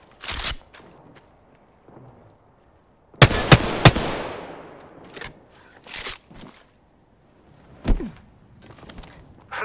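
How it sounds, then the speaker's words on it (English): Gunfire in Apex Legends arrives as sharp, loud separate bursts: one early shot, then a cluster of close cracks with a ringing tail, and a few more scattered shots over a quiet background. "Shots fired."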